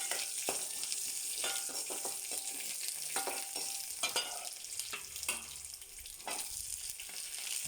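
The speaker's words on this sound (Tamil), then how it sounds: "வெங்காயம், இது கொஞ்சம் நல்லா வதங்கிட்டு" Chopped onions sautéing in a pan for a Tamil home-cooked dish, with a steady close sizzle broken by several scraping stirs of a spatula at intervals, and no talking.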